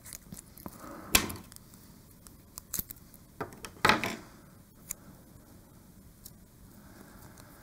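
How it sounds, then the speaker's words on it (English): Heat tape pulled and torn off the roll while fixing a Cricut design onto a bottle bag before heat pressing, giving a few sharp ripping and crinkling bursts amid quiet handling noises, with no talking. "just use some of our heat tape to just tape the design into position"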